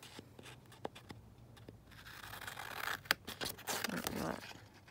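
Scissors snip through paper for a junk journal in a run of quick close cuts, with light rustling and scraping of the sheet as it is handled, quiet and without talk.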